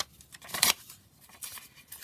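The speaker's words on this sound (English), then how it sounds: "So all I'm going to do is just tear a few pieces ready." Paper pieces for a junk journal collage cover are torn by hand, with a couple of short, close, crisp rips standing alone in a quiet room.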